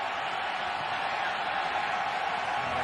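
A stadium crowd at an MLS soccer match gives a steady, loud, broad roar that holds evenly throughout with no pauses or distinct voices standing out.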